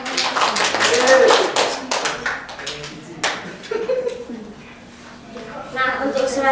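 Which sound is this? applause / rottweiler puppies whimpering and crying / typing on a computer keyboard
applause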